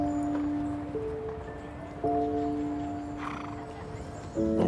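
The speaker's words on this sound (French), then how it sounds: "J'aurais jamais imaginé toucher un cheval comme ça." A horse gives a whinny with steady tonal calls, with faint hoof and rustling sounds in the background, outdoors and fairly close, without speech.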